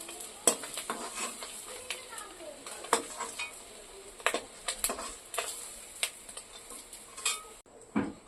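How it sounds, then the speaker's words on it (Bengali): Eggs fry in oil in a pan with a light continuous sizzle, broken by sharp clicks and scrapes of a spatula against the metal, close and fairly quiet, no talking. "ডিমগুলো ভাজা হয়ে গেছে, আমি এখন তুলে নেব।"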